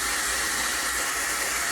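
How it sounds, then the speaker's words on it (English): A blow dryer blasts air over thick curly hair, a loud continuous close-up whoosh with no breaks. "You take your blow dryer and you blow dry your face"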